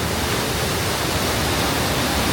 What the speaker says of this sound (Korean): 길 옆에서 우렁찬 물소리가 들려 잠시 들여다보았습니다